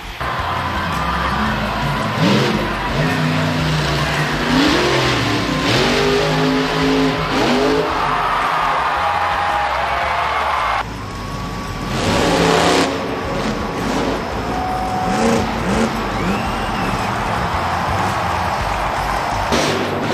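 A Monster Jam monster truck engine revs hard and loud as the truck tips up onto its side and rolls over, with a roaring, wavering motor and a crowd-filled arena wash beneath.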